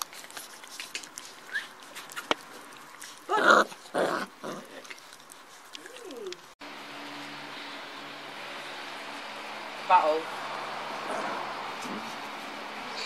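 Six-week-old puppies growl and grunt while eating raw rabbit, with a few louder close-up growls amid rustling and chewing, followed by steadier background noise.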